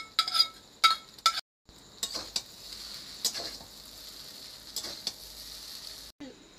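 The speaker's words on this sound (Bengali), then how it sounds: "বন্ধুরা ভাজা ডিমগুলো দিয়ে দিচ্ছি চাউমিনের সাথে।" Fried eggs and chowmein are stir-fried together in a pan: a bright sizzle broken by sharp metal clinks and scrapes of a utensil against the pan, with a few short silent gaps.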